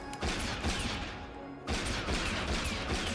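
Rapid gunfire in the video game Honkai Star Rail, with dense bursts of shots and crashing impacts, a brief lull in the middle, then continuous loud firing again.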